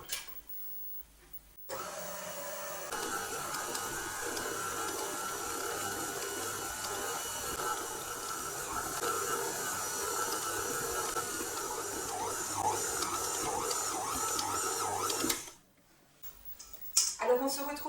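A stand mixer kneads baguette dough on its lowest speed, giving a steady mid-pitched motor whir with rhythmic knocking that runs for most of the span, then cuts off near the end and is briefly followed by a few clatters.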